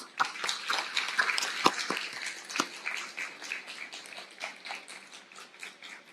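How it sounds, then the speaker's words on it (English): Graduation ceremony audience applauds continuously, a soft, dense patter of many hands heard from a distance and without any voices over it. "I request you to give them a great round of applause"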